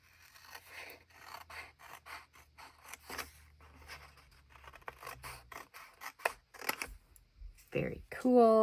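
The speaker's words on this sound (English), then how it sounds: "I'm just going to use the scissors on the other parts." Scissors snip paper for a bullet journal spread in quick, close, repeated cuts with soft scraping, as someone talks over them and a brief rising tone sounds at the end.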